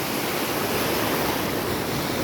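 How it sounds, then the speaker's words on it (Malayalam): Steady, broad rushing of sea surf fills the whole stretch, a continuous wash of waves with no distinct breaks and no voices. "എത്ര കണ്ടാലും മതിവരാത്ത കാഴ്ചയാണ് കടലും കടലിൻ്റെ ഓളങ്ങളും"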